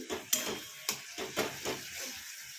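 Masala spice paste for matar paneer is sautéed in a pan with tomatoes, giving a soft sizzle broken by repeated scraping stirs of a spoon against the pan, about five strokes in an even rhythm, close and moderately quiet.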